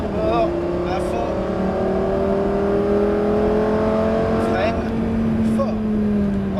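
A Lamborghini accelerates hard on a race circuit, its engine note rising steadily and dropping briefly at each upshift, heard loud and continuous from inside the car.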